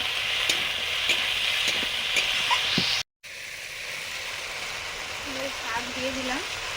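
Vegetables with brinjal, chilli and leafy greens such as kulekhara and shanti shak sizzle steadily as they are sautéed in a pan for a prawn and potato shak chorchori, a continuous frying hiss with faint stirring and voices.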